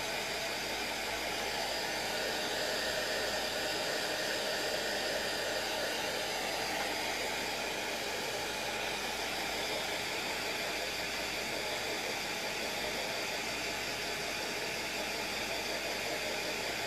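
A hair dryer used as a blower to dry white paint on sneakers roars in a steady, unbroken hiss for the whole stretch, fairly soft and held at a distance, with no talking.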